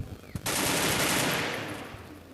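Rapid automatic gunfire in the mobile shooter game Free Fire breaks out after a short pause, a loud, dense, continuous burst that holds steady and then eases slightly toward the end.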